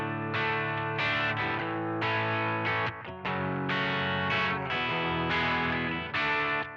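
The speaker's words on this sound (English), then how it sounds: "So underneath the kind of bulk of the song is that 4-chord loop" Distorted electric guitar strums a four-chord loop from a song, sustained chords with rhythmic accents, played alone and fairly full.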